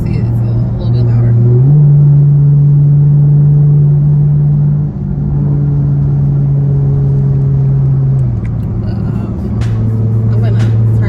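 A V6 Dodge Charger's exhaust drones in sport mode from inside the moving car, a steady low rumble that steps up and down in pitch as the engine shifts through the gears, with someone speaking over it.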